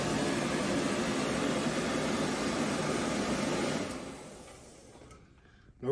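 Vacuum ironing table drawing steam moisture through fabric, a steady loud rushing whoosh of suction that holds for several seconds, then fades away to near silence before a small bump at the end.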